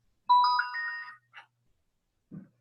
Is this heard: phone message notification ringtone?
yes